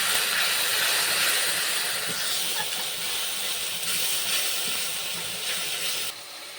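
Steady, loud hissing sizzle of a wet spice paste with a little water cooking in a hot kadai for a fish-head and jackfruit curry, continuous throughout with no talking.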